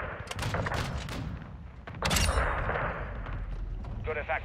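Missile strikes from a UAV in Call of Duty: Modern Warfare II land as heavy booms and gunfire bursts, with a loud blast near the two-second mark, while voices talk over the action.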